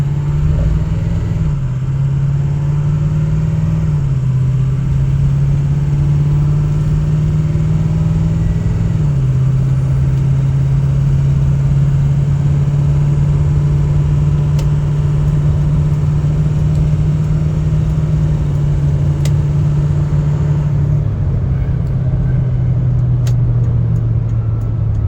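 A diesel truck with a 5R110 automatic transmission pulls at half throttle, its loud, close engine drone stepping down in pitch at each upshift over a steady road rumble, with no voices.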